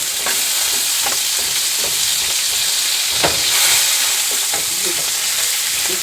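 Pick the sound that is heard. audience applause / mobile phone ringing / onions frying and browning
onions frying and browning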